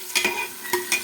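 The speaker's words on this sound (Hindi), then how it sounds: "प्याज हम मसाला भून लेती हूँ" Onion and masala fry in a pan, where a low sizzle is broken by a few sharp scraping strokes of a spoon stirring the mixture, close and fairly loud.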